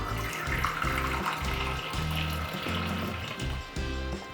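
Hot water poured from a half-cup measuring cup for making matcha at home, a steady close trickle and splash with a faint rhythmic clatter underneath, no talking.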